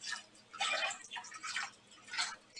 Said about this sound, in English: I'm going to put filtered water in the base.